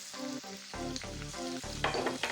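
Crushed garlic fries in oil with a soft, steady sizzle while a utensil stirs and scrapes in short bursts, heard up close and alone.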